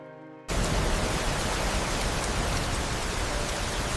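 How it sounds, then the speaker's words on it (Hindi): Rain beats steadily on a tin roof as a dense, even hiss. It starts abruptly and continues unbroken at moderate loudness with no voices. "बाहर बारिश टीन की छत पर लगातार शोर मचा रही थी।"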